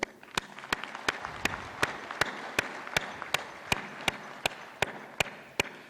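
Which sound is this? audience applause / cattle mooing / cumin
audience applause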